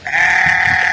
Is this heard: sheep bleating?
yes